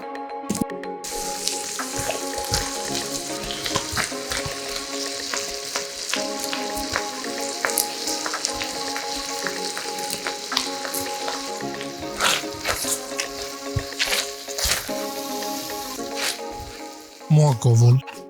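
Onion and garlic fry in a pan as the base for a beef stew, a steady sizzle dotted with many sharp crackles and pops, close by, with a louder clatter near the end.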